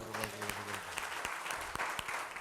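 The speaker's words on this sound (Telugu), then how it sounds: "మరొకసారి గట్టిగా చప్పట్లు కొడదాం" A church congregation at a Telugu worship service claps together, a dense, lively burst of applause filling the hall, with faint musical tones at the start.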